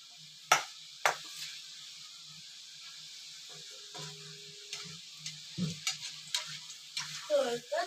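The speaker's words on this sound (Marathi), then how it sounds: "आणि मीडियम गॅसवर एकदम तळायचे." Malvani khaja dough fries in hot oil over a medium flame, giving a soft steady sizzle with occasional sharp clicks and stirring taps close by.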